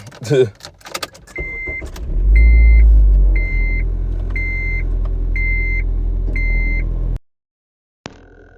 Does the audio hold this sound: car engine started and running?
yes